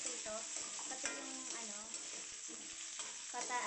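Potatoes sizzle in a pan for kaldereta, a steady hot frying hiss broken by scraping stirs, with some faint voices underneath.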